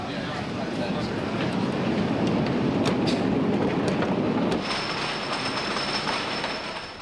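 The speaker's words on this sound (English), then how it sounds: "the train goes around the track for the first time" A roller coaster train rumbles and roars along its track at Hersheypark, loud and continuous, with clattering and a thin metallic squeal toward the end.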